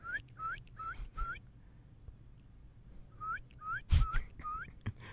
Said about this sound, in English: That's all you hear while you're standing there with your coffee is that dumb bird making those 4 noises.